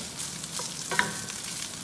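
Shrimp sizzle as they are stir-fried in a pan, a steady close frying hiss with small crackles and a light clink of stirring, no speech.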